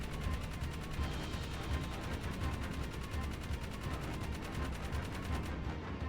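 Rapid, steady gunfire from a vehicle-mounted gun in the game Jak 3, a dense continuous rattle of shots that carries on for the whole stretch with no pause.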